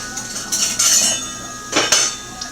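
Onions caramelizing in a pan are stirred with a metal utensil, giving a couple of short clinking scrapes against the pan over a low background hiss.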